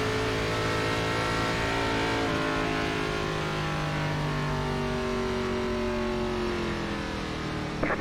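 Several race car engines from an iRacing NASCAR Gen4 stock car race at Las Vegas drone steadily and loudly, with overlapping tones slowly shifting pitch as cars hold speed in a pack.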